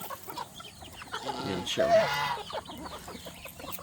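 Young chickens bred from native birds crossed with Rhode Island stock cluck nearby in a farmyard, a burst of rising clucks in the middle, with someone briefly speaking.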